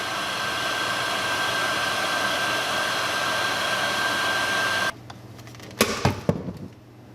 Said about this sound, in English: Just move the heat back and forth. You'll see it start to shrink into place.